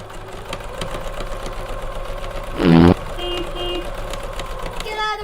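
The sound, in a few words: sewing machine sounding like motorcycle engine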